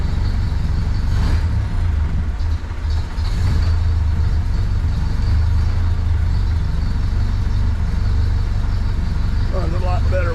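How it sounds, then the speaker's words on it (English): A 1931 Ford Model A Sedan Delivery engine runs steadily with a loud, continuous low idling rumble, and a voice is faintly heard near the end. "Runs a lot better when it gets warm, but it sounds like it ought to."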